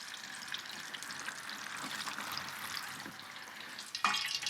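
Potatoes dried and going into hot grease for gizzard poutine, a steady broadband crackling sizzle that holds even throughout, with a sharper, louder burst of spitting near the end.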